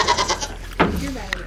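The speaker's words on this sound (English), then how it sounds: "this morning, Sophie, your goat, your baby, snuck out." A baby goat bleats once in a barn stall, a short wavering cry, close by, with voices and other goat sounds around it.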